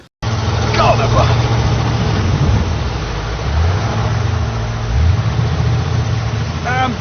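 A Dacia Sandero with a 1.6 engine arrives, its engine droning loud and close with a low, steady hum that rises slightly in pitch as it moves.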